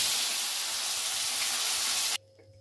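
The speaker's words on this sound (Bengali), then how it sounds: "তেলটা গরম হয়ে গেছে, মাছ কটাকে দিয়ে দেবে।" Pieces of katla fish frying in hot oil give a dense, steady sizzle that runs loud and close, then cuts off abruptly near the end, leaving quiet room tone.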